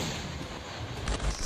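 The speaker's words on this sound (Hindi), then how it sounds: "यहाँ पे काउंटर फायर शुरू हो गया है।" Gunfire from a counter-fire assault on cave positions, heard as a steady, distant crackle of shots with a couple of heavier low thuds near the end. No voices.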